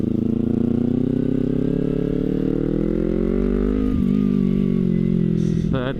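A naked motorcycle runs steadily, its engine giving a close, droning hum with layered tones that dips briefly mid-ride and then climbs again before a short, higher clatter at the end.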